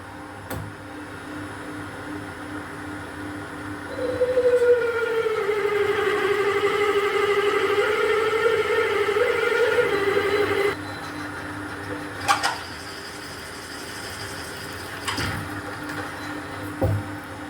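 A machine runs at 330 RPM, giving a steady, moderately loud mechanical drone with a rising, whining tone that holds for several seconds and then cuts off. A few sharp clunks and knocks follow.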